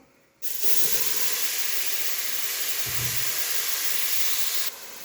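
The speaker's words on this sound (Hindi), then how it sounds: "तो टाइम की बचत के लिए यहाँ सबसे पहले मैं प्याज और टमाटर का पेस्ट डालूँगी, तकरीबन हाफ कप।" Onion and tomato paste hits a hot pot for chicken tahari, bursting into a loud, steady sizzling hiss that starts abruptly and holds for several seconds before cutting off, no talk.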